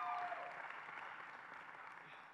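Commencement audience at a law school ceremony applauding steadily in a large hall, a broad wash of clapping that slowly fades, with faint voices mixed in.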